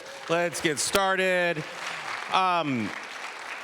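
Applause for volunteer award honorees at the Hayward Volunteer Awards ceremony, a soft wash of clapping in the hall beneath someone speaking prominently over it.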